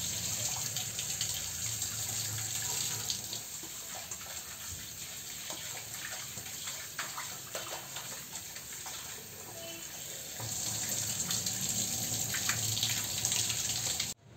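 Raw meat being rinsed under a running kitchen tap, a steady close rush of water with splashing and dripping as the pieces are handled, with no voices.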